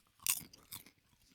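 Food crunches as someone chews close to the microphone, two distinct crisp bites followed by softer mouth sounds, quiet and alone with no talk.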